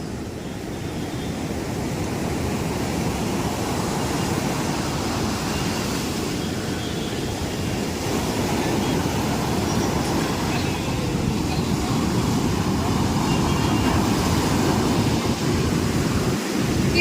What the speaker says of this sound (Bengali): কি বড় বড় ঢেউ উঠছে